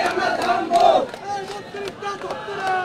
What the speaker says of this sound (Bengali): যেমনটি দেখতে পাচ্ছেন এই মুহূর্তে সাধারণ ছাত্র জনতা যারা রয়েছেন তারা কিন্তু স্লোগান দিচ্ছিলেন।